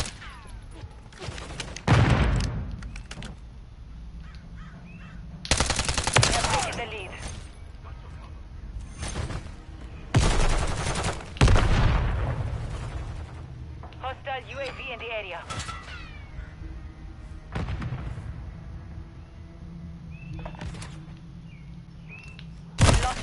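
Bursts of rapid gunfire ring out from a multiplayer shooting video game, several loud volleys spaced across the clip, with players talking in between and over the shooting.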